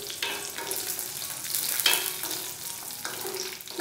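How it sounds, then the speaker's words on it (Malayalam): Green chillies fry in hot oil for a traditional Kerala curd and chilli rice side dish, giving a steady close sizzle broken by sharp bursts of popping and crackling. "മുളക് ഇങ്ങനെ പൊട്ടിത്തെറിക്കും എണ്ണയിലേക്ക് ഇടുന്ന സമയത്ത്"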